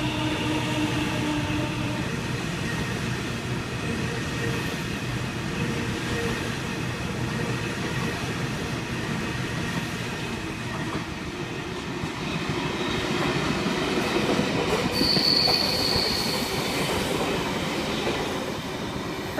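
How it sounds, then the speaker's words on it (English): A Sydney Waratah electric train rolls through a station platform at night, a steady rail rumble with clattering wheels and a brief high squeal, the sound building a little as the cars pass. "Waratah A17 passing platform number 2."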